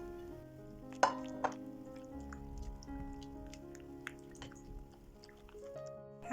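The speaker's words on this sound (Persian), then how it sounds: "کدوی آب گرفته شدهمون رو به موادمون اضافه میکنیم" Squeezed, water-drained zucchini drops into a mixing bowl of batter ingredients with two soft, wet plops close up, followed by faint kitchen taps and light squishing at low volume.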